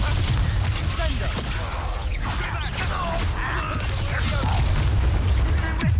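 A Confringo blasting spell goes off in a Hogwarts Legacy duel, heavy booming explosions with crackling debris and rumbling layered over a voice shouting spell names.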